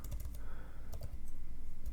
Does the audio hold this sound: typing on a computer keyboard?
yes